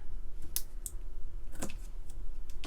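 Paper is trimmed for a grid-style scrapbook layout, with a few sharp, separate clicks and snips from the cutting tool, close and moderately loud, with no voices.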